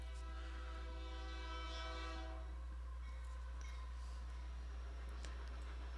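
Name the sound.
train passing by and blowing its horn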